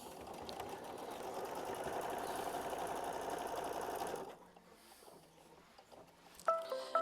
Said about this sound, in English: We're going to hit start, and we're going to tack that down again with machine stitch step 6.